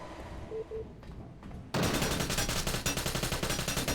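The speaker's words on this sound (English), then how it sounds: "Gets shot from the vents, but doesn't kill him." Gunshots fired from the vents during a competitive video game match, a few quiet shots at first and then a sudden loud, sustained burst of rapid automatic fire with dense repeated cracks to the end.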